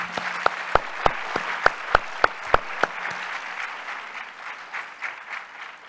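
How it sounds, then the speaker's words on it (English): Audience applause for a panel at a Dallas conference on media and elections: a few sharp, distinct claps first, then a broader, softer round of crowd clapping that thins out and fades. "Let's give them a great round of applause."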